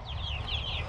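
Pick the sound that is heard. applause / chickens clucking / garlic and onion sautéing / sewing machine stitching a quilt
chickens clucking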